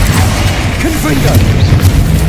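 A Confringo spell blast goes off in the video game Hogwarts Legacy, a loud booming burst that rolls over a steady bed of game music and ambience.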